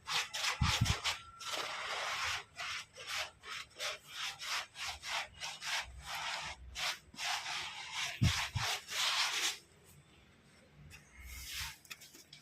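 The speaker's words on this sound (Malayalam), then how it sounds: "എന്നിട്ടൊരു റഫ് സ്പോഞ്ച് എടുത്തിട്ട് ജസ്റ്റ് പാറ്റേൺ മാത്രം ജസ്റ്റ് ഒന്ന് ഓടിച്ചു വിട്ടാൽ മതി" A rough sponge is rubbed in quick repeated back-and-forth strokes over a patterned wall during a colour-wash finish, a close, steady scraping rhythm that stops abruptly near the end before a few final strokes.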